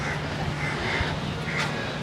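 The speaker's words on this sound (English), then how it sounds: "Apparently crows." A few harsh crow caws sound at a distance over steady outdoor background noise.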